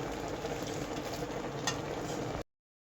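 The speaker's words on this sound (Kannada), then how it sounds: "ಇವಾಗ ನೋಡಿ ಸ್ವಲ್ಪ ಕುದಿ ಬರ್ತಾ ಇದೆ ನೋಡಿ" Dried fish and prawn sambar in a pot on the stove, steady bubbling and stirring close by with no voices, cutting off abruptly near the end.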